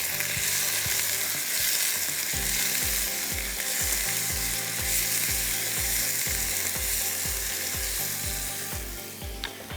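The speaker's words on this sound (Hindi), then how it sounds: "इसमें हम अब डाल देंगे ये चिकन, और ज़रा इसको मैं भून लेती हूँ।" Chicken fries loudly with ginger, garlic and white pepper in a constant sizzle, while a steady, rhythmic low clatter of stirring repeats underneath throughout and no one speaks.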